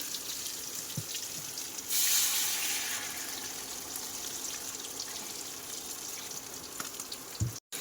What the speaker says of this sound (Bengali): আর এদিকে কিন্তু এই আলুর তরকারিটা কষাই হয়েছে, এবারে জল দিয়ে দেব।